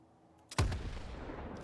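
An RPG rocket launcher fires once in STALKER 2, a sharp blast followed by a rushing roar that trails off, loud and close, with no talk.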